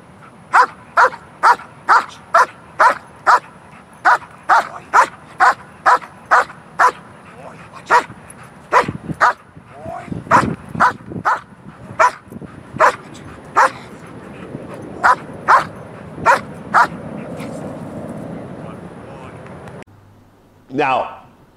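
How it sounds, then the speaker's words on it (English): Dog being trained on the speak command barks repeatedly at a ball in a fast, rhythmic series of loud, close barks, with short pauses and a brief stretch of quieter noise midway. "bark at the ball"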